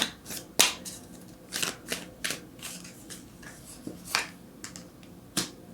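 Tarot cards being shuffled and drawn for a reading, with a series of crisp, close riffles and snapping card flicks in an irregular rhythm and a quiet background.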